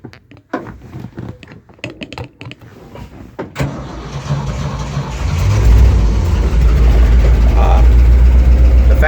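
A 1966 Ford F100 pickup with a 390 V8 and 4-speed idles steadily and loud after some clicks and brief noises, the low engine rumble filling the second half with voices speaking faintly underneath.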